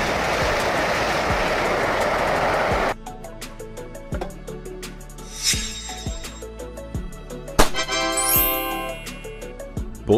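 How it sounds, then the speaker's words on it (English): High-speed train passing, a steady loud rush that cuts off abruptly, followed by rhythmic clickety-clack wheel beats and metallic squealing as cars roll by close. "High-speed train, a train that travels at much higher speeds than traditional trains"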